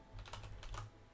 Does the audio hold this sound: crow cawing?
no